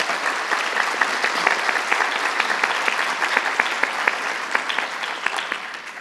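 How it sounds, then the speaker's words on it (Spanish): Warm applause from a seated audience welcomes a doctor at an environmental education panel discussion, a steady dense clapping that holds for several seconds before tapering slightly. "le damos un fuerte aplauso de bienvenida al doctor Maya"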